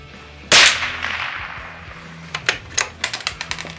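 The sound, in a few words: Christensen Arms Ranger carbon fibre rifle shot, Norma subsonic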